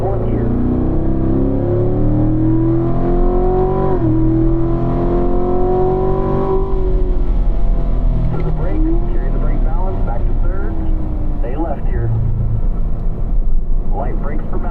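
A car engine roars loudly and climbs in pitch as it accelerates hard on a race track at full throttle, shifting up to fourth gear partway through, then keeps pulling at high revs.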